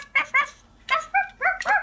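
Puppies barking and yipping in short bursts, three separate clusters of small high-pitched barks close by, with quiet gaps between them.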